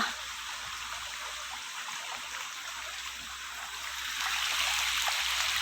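A small creek flows with a steady broadband hiss of running water, growing a little louder toward the end, with no voices.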